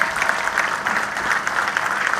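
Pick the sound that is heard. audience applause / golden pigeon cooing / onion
audience applause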